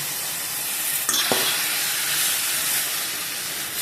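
Spiced plantain curry stirred in a hot pan, a steady close sizzle and hiss with a couple of brief scraping strokes and no talking.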